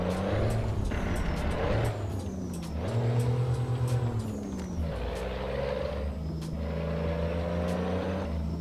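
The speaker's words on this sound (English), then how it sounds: "it definitely sounds a lot better now with this engine in it" A heavy truck engine in American Truck Simulator with the Special Transport add-on, a steady deep drone that rises and falls as the driver accelerates and shifts, with occasional hissing air-brake bursts.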